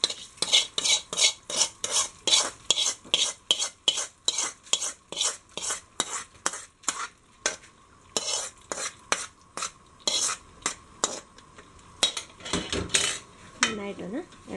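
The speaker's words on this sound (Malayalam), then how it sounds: "നന്നായിട്ടൊന്ന് ഇളക്കി കൊടുക്കുക" A spoon scrapes and knocks against a pot while ripe mango curry with a mustard seed tempering is stirred, making a quick, regular run of metallic clinks that slows and turns irregular near the end, with a faint sizzle underneath.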